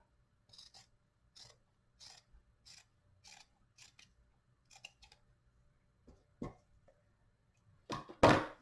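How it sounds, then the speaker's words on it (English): Scissors trim the edge of a crochet purse lining with a steady series of quiet, close snips at regular intervals, followed by a couple of louder clacks near the end. "You can go ahead and trim this edge as well."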